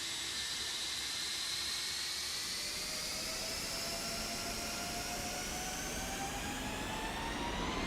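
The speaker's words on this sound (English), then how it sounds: "I'm gonna go Toga in the exterior view so you can hear these lovely RB211 engines" Rolls-Royce RB211 jet engines spool up to full takeoff thrust in a flight simulator game, a loud, steady roar with rising turbine whine that builds continuously throughout, heard alone without voices.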